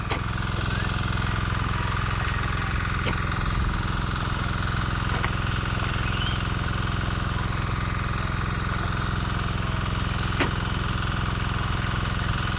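A small water pump engine drones continuously at close range, steady and unchanging, with occasional faint clicks and knocks over it.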